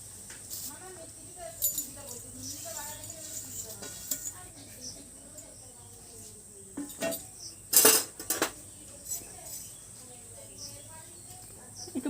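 A utensil stirs fried vermicelli through milk in a pot, giving scattered clinks and scrapes against the metal with a few louder knocks, while a voice talks over the stirring.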